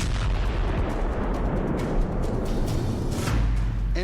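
HIMARS M30A1 cluster rockets burst in a war zone, a dense, continuous rumble of overlapping blasts and cracks, loud and sustained throughout.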